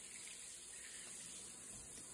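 A faint, steady hiss of water spraying from a master bathroom shower head runs continuously without pause, even and unbroken.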